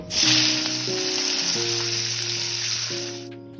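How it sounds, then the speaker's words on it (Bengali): Loud, steady sizzling of tangra fish frying in hot oil in a wok, a dense crackling hiss close up, with a soft musical tone playing underneath. "তেল গরম হয়ে গেছে এবার মাছ কটা আমি ভেজে নেব"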